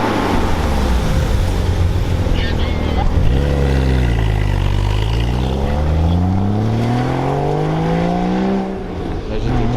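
A sports car engine, a Porsche GT4, revs loudly and climbs through the gears as it passes close by on a mountain road, its pitch rising and falling against steady road noise.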